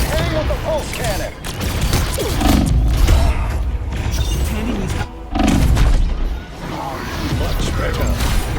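Iron Man's pulse cannon firing in the Marvel Rivals video game, a series of heavy booming blasts with crackling mechanical bursts, loud and close, mixed with game effects and character voice lines.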